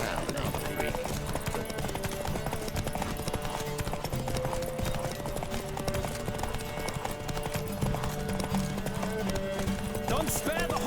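Horse hooves galloping in The Witcher 3 during a race, a fast steady clip-clop running throughout with occasional whinnies, layered under spoken voices and background music.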